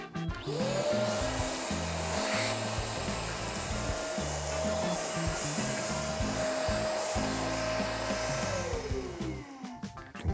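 A Dnipro-M DCS-200BC Dual cordless saw cuts during a stress test. Its loud, steady motor whine spins up, holds through a continuous cut with grinding underneath, then winds down at the end.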